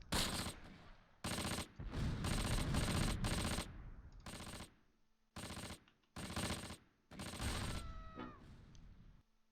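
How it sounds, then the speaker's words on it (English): Repeated bursts of rifle fire from the video game Close Combat: Panthers in the Fog crack out in short volleys with gaps between them, loud and sharp, with no talking. "I hear more rifle fire from a second location."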